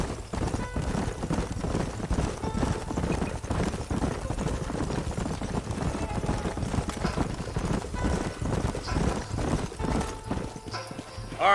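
Several horses ride across open country in the video game Red Dead Redemption, a busy, continuous clip-clop of galloping hooves that stays loud and close throughout.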